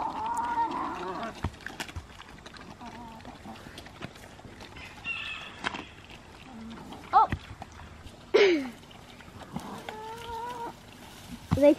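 Chickens cluck and squawk intermittently nearby, with scattered sharp calls over quiet outdoor background and occasional rustling.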